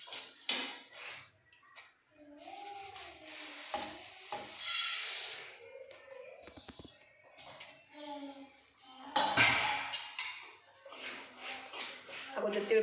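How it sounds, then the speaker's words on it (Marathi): Sesame seeds being dry-roasted for chikki scrape and rustle as they are stirred in a hot pan, with intermittent close stirring and rubbing sounds alongside someone talking throughout. "तर त्यात मी तीळ भाजून घेते."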